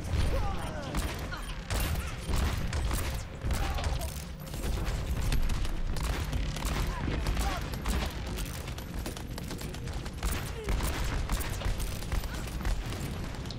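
Continuous bursts of rapid gunfire in Overwatch, loud and dense, with booms mixed in and no pauses.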